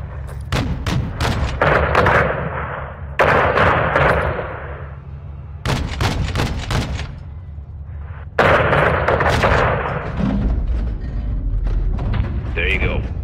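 Gunship gunfire in the video game Modern Warfare 2: loud, heavy bursts of cannon and artillery fire repeat in waves with booming impacts, while radio-style voices talk over the shooting.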